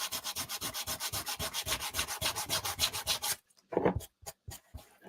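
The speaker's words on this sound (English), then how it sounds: "I have to sand my wood." Rhythmic back-and-forth sanding on a wooden Christmas ornament, steady scratchy strokes about four per second up close, then a few slower, quieter rubs after a brief pause.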